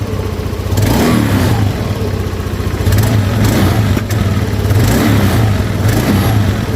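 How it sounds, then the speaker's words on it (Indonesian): Honda Beat scooter engine, stalled until a carbon cleaner treatment, running steadily up close with a loud, continuous hum and repeated surges of revving throughout. "yang penting ini motor udah hidup"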